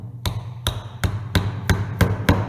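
A wooden mallet striking a chisel in seven sharp, evenly spaced blows, loud and close, with no voices.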